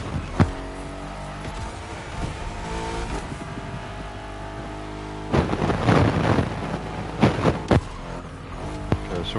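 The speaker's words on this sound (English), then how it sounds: "Sounds nice, even though I'm pretty sure this is a hybrid. I think it still has the V8." A Mercedes-AMG GT hybrid with a V8, driven in The Crew Motorfest, holds a steady engine drone that swells into loud revving bursts around the middle and again near the end.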